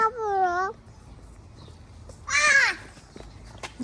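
A crow-like bird gives two loud caws at Cameron Highlands, with a quiet pause between them and soft background noise.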